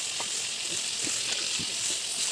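Katla fish masala frying in oil in a home Bengali kitchen, a steady close bright sizzle with faint soft stirring scrapes underneath and no talking.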